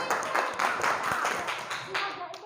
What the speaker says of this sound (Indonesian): Beri tepuk tangan dulu untuk kelompok 7.